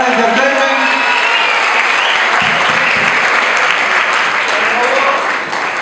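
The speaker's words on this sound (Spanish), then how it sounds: "un fuerte aplauso para Bruno Güemes de Cara Entertainment." Loud, dense applause from a large crowd at a salsa festival show, sustained for several seconds and fading slightly at the end.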